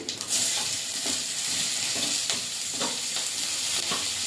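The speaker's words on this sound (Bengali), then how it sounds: "পেঁয়াজটা ভাজা ভাজা করে নেব" Chopped onion fries in oil in a kadai with five-spice tempering, a continuous close sizzle broken by regular scraping stirs about every half second.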